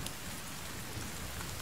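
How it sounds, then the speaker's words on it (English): Steady rain in The Forest video game, a dense continuous hiss of falling drops throughout, fairly loud and close, with no speech. "Oh my, it's raining. Of course it's raining."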